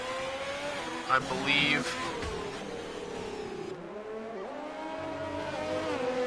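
A Formula 1 Ferrari spins during the Singapore race in a racing game, its engine howling and dropping in pitch with brief tire squeal and revving. A voice speaks briefly over it.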